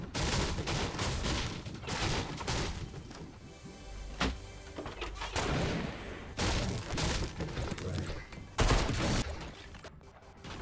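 Repeated heavy blasts and bursts of gunfire in Fortnite, shotgun shots among scattered shooting, loud and close with busy game noise throughout.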